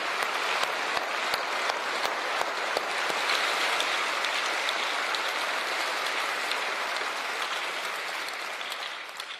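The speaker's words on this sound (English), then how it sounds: "If you can join me in a hand of applause" Sustained applause from a large crowd at a political rally in London, dense and steady throughout, fading slightly toward the end with no voices over it.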